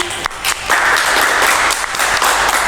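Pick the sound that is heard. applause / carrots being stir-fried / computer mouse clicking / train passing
applause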